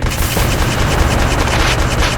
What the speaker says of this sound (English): once all your weapons on the right side of your screen are green